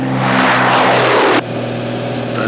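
A propeller airplane riddled with bullet holes roars loudly with a steady engine drone in a 1988 action film, the pitch sweeping down before the sound abruptly drops to a lower, steadier hum; no talk.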